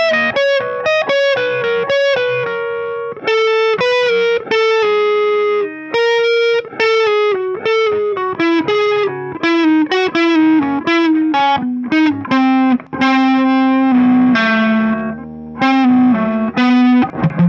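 Distorted electric guitar playing the melody notes of a song slowly, picking single notes one after another with slides, loud and close with no voices.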